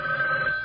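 A telephone rings in a dentist's office, one steady electronic ring that is loud, close and heard alone.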